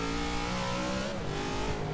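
Ram Runner truck engine in the racing game Forza 6, a continuous revving drone with rising and falling pitch and faint tire noise, steady and moderately loud with no talk.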